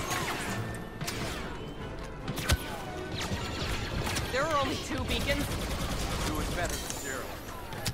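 Machine gun fire and explosions crackle in the Star Wars: Operation Resurrection video game, with dense bursts of rapid shots, sharp bangs and clattering impacts throughout, layered with game effects.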